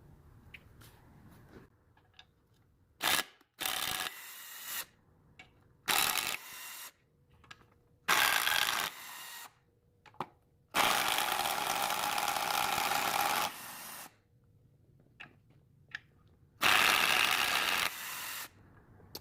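A cordless impact gun removes the oil pan bolts from an LS swap engine, firing in several separate rattling bursts of one to three seconds each, with one longer run near the middle and quiet pauses between them.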